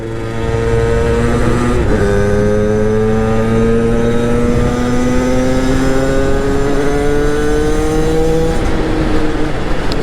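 Beta Track 70 AM6 moped revving and accelerating, its two-stroke engine whine climbing steadily in pitch after a brief dip, loud and close, with no talking.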